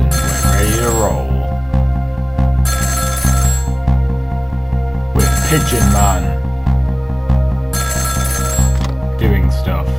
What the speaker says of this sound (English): The phone rings and we're ready to roll.